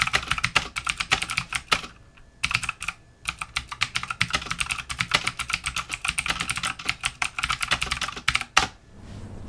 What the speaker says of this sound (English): And here we are with a typing test.